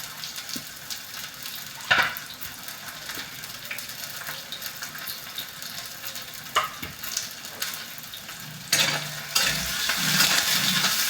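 Cabbage and tomatoes fry in a pan with a steady sizzle, broken by a few sharp scrapes and clatters as they are stirred, growing louder and busier toward the end.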